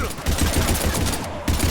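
Heavy gunfire rattles in Mass Effect 3, a dense burst of automatic shots and explosions close and loud for under two seconds, briefly dropping before another burst.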